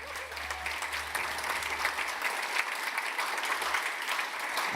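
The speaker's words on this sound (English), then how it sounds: "Round of applause for Shota" Audience applause at a VR platform premiere event, a sustained wash of many hands clapping at a steady level, moderately loud and filling the room, with no speech over it.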